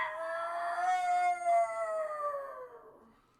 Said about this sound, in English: And it howls. Even you in the forge can hear.